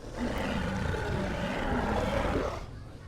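A long, loud Carcharodontosaurus broadcast call from the game Path of Titans: a roar with a rumbling low end, sustained for over two seconds before trailing off into quieter background.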